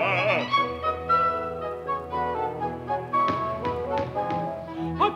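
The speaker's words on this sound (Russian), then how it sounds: "Опять стучат, ах, черти!" Knocking on a door in a staged scene from Tchaikovsky's opera Cherevichki, Act II: several sharp taps cut through sustained orchestral accompaniment, clustered in the second half.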